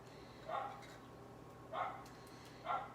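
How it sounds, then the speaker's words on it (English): A dog barks outdoors at a distance, three separate bursts spaced about a second apart over a low steady background hum, with no talking. "He is just barking like a maniac out there."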